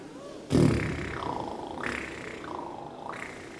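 Didgeridoo played by buzzing the lips, at a school assembly show for kindergarten to fifth-grade children: a sudden loud drone starts after a brief pause and holds steady, with a low, buzzing tone that wavers and swells in slow waves.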